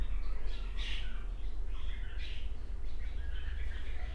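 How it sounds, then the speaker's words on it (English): Outdoor birds chirping and tweeting in short bright bursts, fairly faint and scattered over a low, steady background rumble, with no talking. "Beautiful sounds of the birds."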